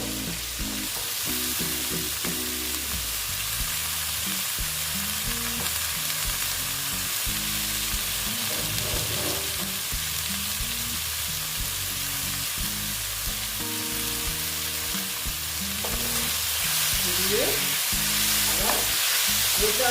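Boiled banana flower sautés in a pan with a continuous close sizzle and intermittent stirring scrapes. The frying grows a little louder toward the end.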